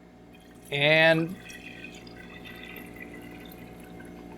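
Water pouring from a measuring vessel into a pot while making tortilla soup, a short splashing trickle of under a second, then quiet room tone with a voice briefly heard.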